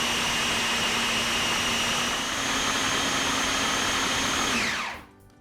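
Vegetables with a little liquid are pureed in a food processor, a loud continuous whirring motor grind held at an even pitch for several seconds before cutting off and winding down.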